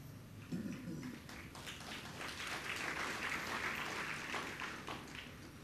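Audience applause at a Jain religious discourse, a broad steady wash of many hands clapping that stays fairly even in loudness throughout, with no voices on top.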